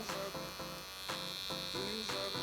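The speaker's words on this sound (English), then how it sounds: "you just want to tap it with the corner, the one side of the trimmer" An electric hair trimmer buzzes steadily and close up during a barber haircut, a continuous high whine with faint rhythmic tapping against the head.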